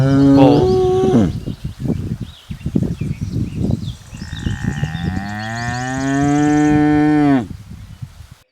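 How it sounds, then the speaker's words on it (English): A bull moos alone in a series of loud, close, drawn-out lowing calls, the longest swelling steadily before cutting off. "Bull."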